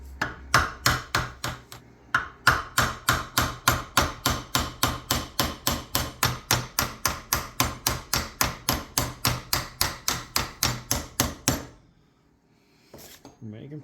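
Rapid, steady metallic blows of a copper hammer striking vice grips ring out close by, dozens in a row for about eleven seconds, then stop and a voice speaks briefly.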